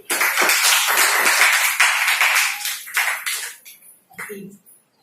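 A roomful of people at a Marathi business presentation bursts into loud, dense clapping that fades over a few seconds into scattered claps, followed by a brief voice.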